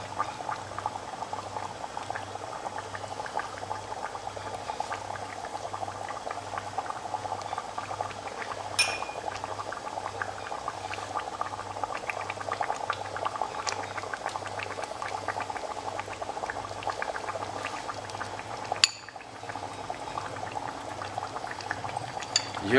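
Mutton cooking with spices in a pot, bubbling and simmering in a steady continuous boil with a low rhythmic pulse beneath, close and moderately loud, with a brief clink partway through and no talking.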